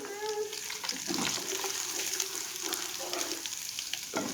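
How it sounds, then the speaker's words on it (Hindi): Sliced ginger and whole garam masala fry in oil in a pan over low flame. A soft, steady sizzle is broken by a few scraping stirs, heard up close and fairly quiet. "अब इसको अच्छी तरह से भून लें"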